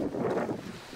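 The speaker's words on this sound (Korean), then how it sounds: "벌써 눈도 올라오니까 바람 부는 거 보세요." Wind gusts across the snowy summit of Hambaeksan mountain, a brief rushing roar buffeting the microphone close up, with no voices.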